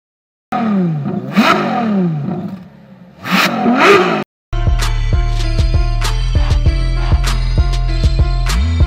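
A turbocharged 2020 Mercedes-Benz CLA 35 AMG engine in Sport Plus mode revs hard in two rising bursts, then accelerates in a sustained loud roar with rapid clattering gear shifts, close by.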